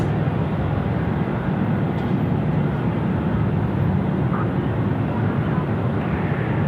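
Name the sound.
jet aircraft with afterburners at Sydney Airport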